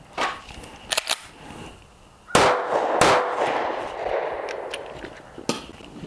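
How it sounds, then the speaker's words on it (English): A Ruger MAX 9 Pro 9mm pistol fires outdoors in loud, sharp cracks: two quick shots close together, a pause, then two more spaced shots, and a final pop, with metallic handling clatter in between. "we're going to do 2 headshots, drop the mag, swap the mag, and do 2 more headshots"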